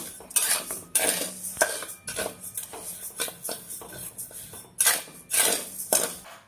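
Raw rice dry-roasting in a kadhai while a spatula stirs it, giving repeated scraping, rattling strokes of grains and metal in an irregular rhythm, close and fairly loud, with no talking.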